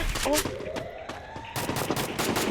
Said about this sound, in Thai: อุ้ยมันยิงมาแล้ว มันยิงมา